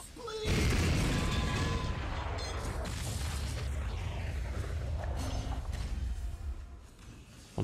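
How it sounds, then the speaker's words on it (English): A coring charge detonates against rocks in the Metal Arms video game to free trapped miners, producing a loud boom followed by a sustained rumbling crash of debris that fades near the end. "Take this coring charge and throw it at those rocks. The explosion should free those trapped miners."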